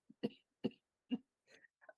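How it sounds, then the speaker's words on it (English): Coughing as five short, separate barks spaced evenly over two seconds, close and fairly quiet against silence, the last ones weaker and higher. "Oh, not the coughing."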